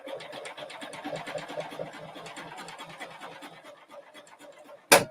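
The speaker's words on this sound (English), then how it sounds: "I'm going to start stitching" A sewing machine stitches quickly along a quilting ruler, its rapid, even mechanical chatter close and moderately quiet, then a brief sharp clack at the end.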